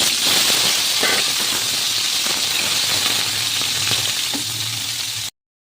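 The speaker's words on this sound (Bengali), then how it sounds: "কপি ভাজা হয়ে গেছে" Turmeric-coated cauliflower fries in hot oil with a loud, steady sizzle and hiss throughout, broken by occasional small pops, before cutting off abruptly at the end.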